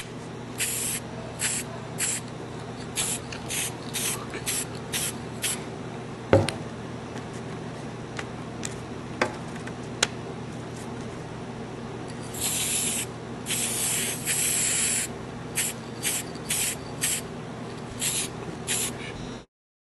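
Aerosol spray paint hisses out in a run of short bursts, then longer sustained blasts near the end, close and fairly loud with quiet pauses between passes as light coats go on.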